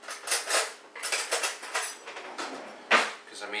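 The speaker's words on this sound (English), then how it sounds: "I'm just going to stir up the barbecue sauce here until I have a nice consistency" Pulled pork being mixed with barbecue sauce in a pot, with a series of close, wet clinks and scrapes of a utensil against the pot coming in quick bursts and one sharper knock near the end.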